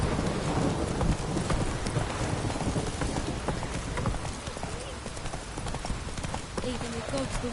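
Geralt's horse Roach in The Witcher 3 clopping through a rainstorm, steady hoofbeats under heavy rain and rolling thunder, with game voices talking over it.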